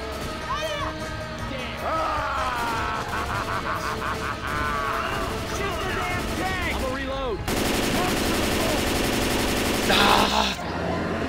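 Rapid automatic gunfire pours onto the Tank in Left 4 Dead's Swamp Fever campaign, loud and continuous bursts with game music and excited player voices talking over the shooting.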